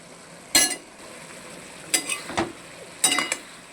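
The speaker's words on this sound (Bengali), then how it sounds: "আমিও আজকে বানিয়ে ফেললাম শাপলার ঝাল বা ভাজা" Water lily stems fry with five-spice and dry chilli in a pan, a faint background sizzle broken by three sharp bursts of stirring and clinking utensils.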